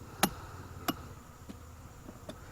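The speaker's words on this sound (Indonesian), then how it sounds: "lebah atau tawon gitu ya, cukup tertarik dengan airnya" Bees or wasps drawn to dripping palm sap at a sugar-palm tapping site: a few short, sharp buzzing passes spaced out over a faint steady background, close and brief, with no talk.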